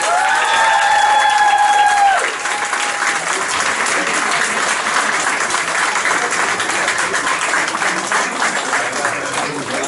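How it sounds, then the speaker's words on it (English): A large audience applauds Kickboxing Hall of Fame inductees Garth and Colin with loud, sustained clapping and some cheering, while a brief tonal whine fades out early on. "Just give them a big round of applause."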